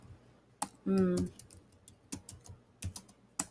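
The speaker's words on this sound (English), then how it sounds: "I'm working on two different keyboards right now too." Someone types on a computer keyboard, with scattered sharp key clicks spread across a few seconds, a brief voice-like burst in between, and a faint background.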